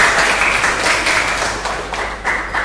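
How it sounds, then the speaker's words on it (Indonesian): A classroom of students applauds together, a steady dense patter of many hands that goes on for a few seconds at moderate loudness. "Tepuk tangan untuk kita semua"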